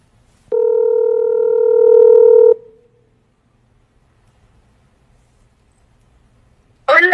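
An outgoing call on a Google Pixel phone produces one loud, steady electronic ringback tone lasting about two seconds, then silence, then a brief burst of other sound at the end.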